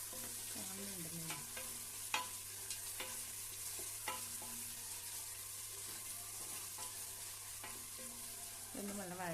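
Onions sautéing in a pan for chicken biryani, a steady low sizzle with repeated spatula scrapes and clinks of stirring, close and fairly quiet.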